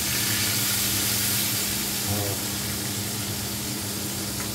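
Schnitzels frying in a pan give off a steady, even sizzle and hiss that stays at an unchanging, moderate loudness.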